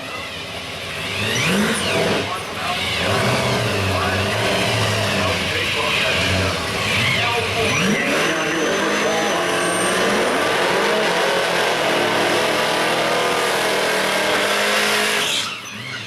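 Pro street drag race cars, including an '84 Camaro, launch down a drag strip at an East Coast event, a loud continuous engine roar with revving that dominates for about sixteen seconds, crowd and announcer voices faint beneath.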